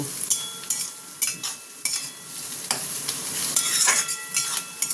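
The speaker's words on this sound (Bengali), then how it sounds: "প্রথমে এইগুলো একটু ভেজে ভেজে নিচ্ছি" Vegetables sizzle steadily in a pan while a utensil scrapes and stirs in quick, irregular strokes; no one speaks.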